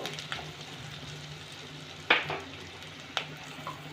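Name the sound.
stirring and frying ground chilli, coriander and cumin spices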